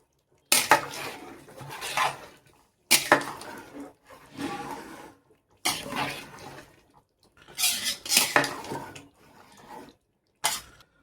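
Rice being mixed through mutton sukka biryani in a pot, giving repeated bursts of scraping and clattering from a utensil against the pot, separated by short pauses, close and fairly loud with no talking.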